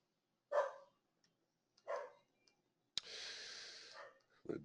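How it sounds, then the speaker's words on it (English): A dog gives two short, clear barks, spaced apart and close by, followed by a longer breathy snort or huff in an otherwise quiet room. "My dog."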